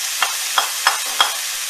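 Carrot frying with chicken and leeks in a pan, four evenly spaced scraping stirs sounding over a soft, steady sizzle, close and fairly quiet.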